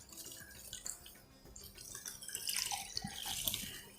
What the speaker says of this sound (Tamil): இந்த கப்பால் 1 கப் கிட்ட தண்ணி விட்டுடலாம்.